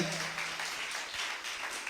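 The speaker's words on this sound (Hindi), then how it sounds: "सलीब के लिए ताली बजानी है तो फिर जोरदार ताली बजाएं" Audience clapping during a Hindi/Urdu church sermon, a brief burst of crowd applause that fades quickly, following a short held tone.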